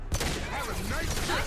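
Gunfire in the Mass Effect 2 video game, a dense burst of shots filling a short stretch of combat with sound effects and faint voices mixed in.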